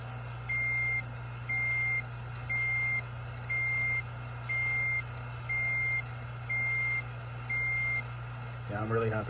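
A vacuum gauge alarm beeps at an even rhythm, about eight times, during a Hyundai Tucson AC compressor replacement, over a steady machine hum, ending with a brief clatter.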